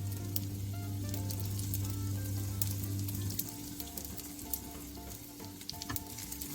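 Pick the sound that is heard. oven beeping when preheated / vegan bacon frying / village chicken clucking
vegan bacon frying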